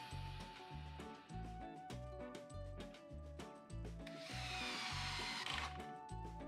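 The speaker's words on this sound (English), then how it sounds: "You can also hold the plank down while you're pushing up with the drill and screw." A power drill drives a screw into a wood flooring plank, its motor whirring in repeated short bursts and revving harder near the end, close and alone.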